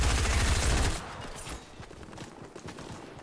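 Fortnite gunfire, a loud rapid stream of shots for about a second that cuts off into scattered quieter pops and clatter, with no talking.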